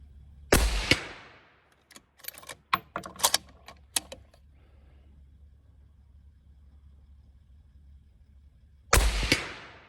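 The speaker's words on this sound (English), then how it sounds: "Take 5 more shots." Two loud, sharp rifle shots from a 25x47 rifle, one near the start and one near the end, each with a ringing decay, separated by a run of quieter metallic clicks and clacks as the rifle is handled between shots.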